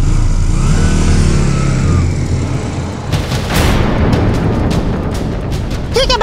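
A motorbike engine runs loud and close, then revs as it pulls away, leaving rough roaring noise behind.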